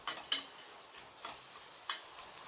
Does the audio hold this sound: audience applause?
no